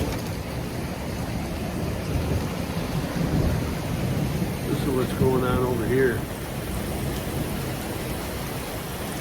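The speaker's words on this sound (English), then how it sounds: "Nice thunderstorm, man." Thunderstorm with heavy rain drumming steadily and a low rolling rumble of thunder, while someone speaks briefly partway through.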